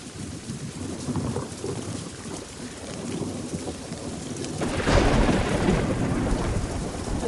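A thunderstorm with steady rain falling throughout and low rolling thunder, swelling into a louder, closer rumble about two-thirds of the way in, with no voices.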